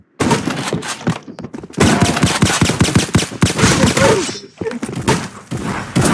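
Rapid gunfire from a Roblox shooter game, loud bursts of shots repeating almost continuously with brief gaps, close and dominant throughout.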